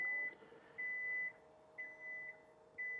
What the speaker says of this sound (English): for it to come back down with safety beeping